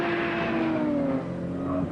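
An Aston Martin DB7 with an unmodified engine and reworked suspension revs steadily, its tone rising then easing, loud and close with no talk over it.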